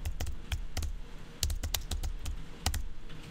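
Keys clack on a computer keyboard as a style name is typed: quick close bursts of keystrokes in short uneven runs, with no voices.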